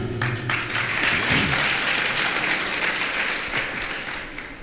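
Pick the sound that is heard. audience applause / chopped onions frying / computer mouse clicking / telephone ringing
audience applause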